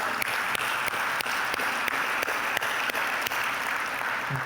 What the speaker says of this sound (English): Yeah, now it's worth the clap.